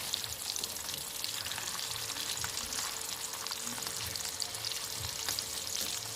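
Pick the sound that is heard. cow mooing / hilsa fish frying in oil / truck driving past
hilsa fish frying in oil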